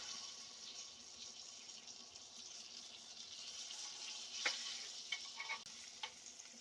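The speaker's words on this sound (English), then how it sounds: "Let that sear." Filet mignon searing in hot oil and butter in a pan, a quiet continuous hiss and sizzle with a few brief sharper crackles and spatters near the end, no voices.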